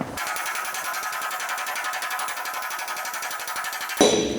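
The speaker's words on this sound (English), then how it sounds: "we're going to use the slapper hammer to knock that out" A slapper hammer strikes a dented car body panel in a rapid, even metallic rattle of blows for about four seconds, loud and close, before stopping abruptly.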